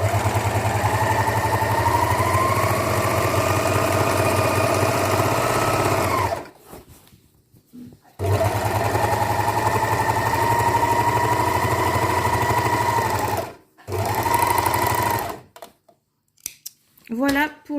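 A domestic sewing machine runs a zigzag stitch to overcast the hem of a sleeve, in a steady whirring hum that comes in two long bursts with pauses between them and a brief final run. No one speaks.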